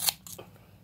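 Dull surgical scissors snip through hair at home, a couple of quick close crisp cuts in under a second, the first loudest, then quiet.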